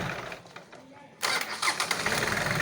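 An old-model Isuzu 4DR5 diesel engine cranks briefly and then catches, settling into a loud rough idle that runs close to the microphone.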